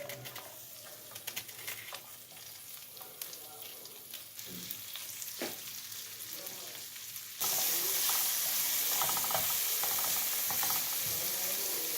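Onions sauté in a pan with crushed garlic, a quiet sizzle with stirring scrapes that jumps to a louder, brighter hiss partway through.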